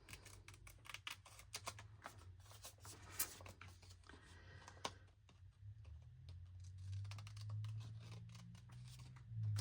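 Scissors snipping paper in a quiet room, a dense run of small crisp cuts that trails off into faint rustling and low background hum.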